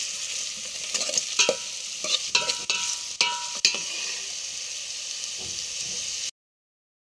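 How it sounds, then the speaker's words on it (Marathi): Chopped onion and tomato fry in a pan, giving a bright, continuous sizzle punctuated by several sharp scraping stirs and clicks. The sound cuts abruptly to silence near the end. "कांदा टोमॅटो हे सर्व ब्राऊन कलर व्हायला पाहिजे, छानपैकी फ्राय व्हायला पाहिजे"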